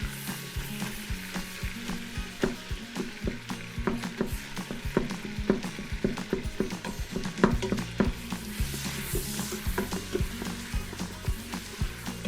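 Hamburger meat sizzles and crackles in ripping-hot bacon grease, a steady loud fry with a rhythmic series of sharp scraping knocks as it is stirred and broken up.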